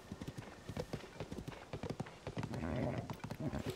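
Hooves clip-clopping as a horse moves in The Legend of Zelda: Tears of the Kingdom, a quick irregular run of sharp close knocks that continues the whole time over a faint rushing background.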